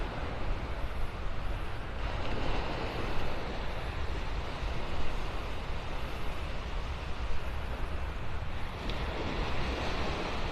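Steady wind and rolling surf wash over the shore of Vanderbilt Beach at Pelican Bay in North Naples, Florida, a dense continuous roar with gusting wind buffeting the microphone and no voices.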